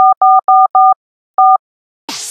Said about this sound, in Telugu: ఇడికి ఫోన్ చేద్దాం.